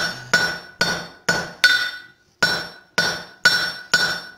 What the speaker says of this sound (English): Now I'm going to come over to the horn of the anvil. Start drawing that out.